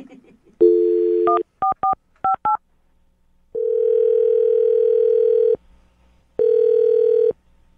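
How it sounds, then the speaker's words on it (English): A landline telephone dialing a number: a short tone, a quick run of separate touch-tone beeps, then two long steady ringback tones, loud and close, with no voices over them. "I'm going to dial the phone number right now"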